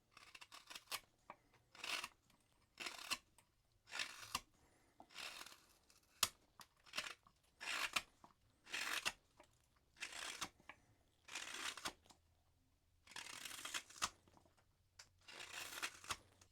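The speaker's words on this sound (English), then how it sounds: "And then one last cut test just to make sure." A freshly sharpened hook knife making test cuts, a steady series of about a dozen short scraping, shaving strokes in a regular rhythm, close and clear with quiet gaps between them.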